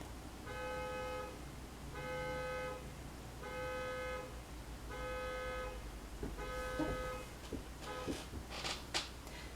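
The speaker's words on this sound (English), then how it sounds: "someone's car alarm is going off." A car alarm goes off outside, sounding as a steady pattern of repeating bright tone bursts that cycle at a regular pace over low background rumble, with a few clatters and hisses toward the end.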